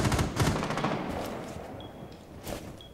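Video game gunfire, a fast burst of rattling shots that fades into lower rumbling and scattered noise, with a thin electronic beep tone in the later part.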